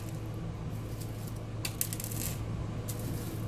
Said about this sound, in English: My lightest spots are going to have some of these light rocks. So I'm just going to drop them on